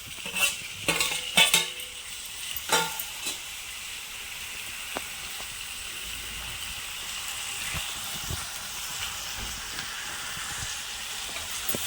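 Tomato pieces drop into a hot pan for tomato curry, giving a few sharp clattering splashes at first, then a faint, steady sizzle that carries on quietly.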